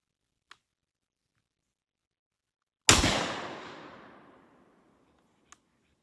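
A single loud shotgun blast goes off with a long echoing decay, set between two faint clicks in otherwise quiet surroundings.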